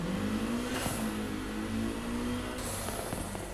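In Need for Speed Heat, a 2006 Lotus Exige S engine revs under acceleration, holding a sustained mid-pitched whine that rises and levels off, broken by a few brief clicks and a shift in tone near the end.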